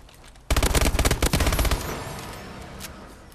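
Automatic weapon fire in Call of Duty Advanced Warfare: one loud, rapid burst of shots lasting about a second, then a ringing tail that fades away.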